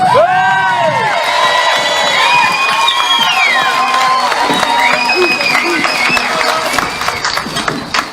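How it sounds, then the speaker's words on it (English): A large outdoor crowd of farmers at a water protest rally in Canberra cheers and applauds for a speaker, with loud whoops and shouts over continuous clapping and voices throughout. "would you give a huge round of applause to Helen Dalton?"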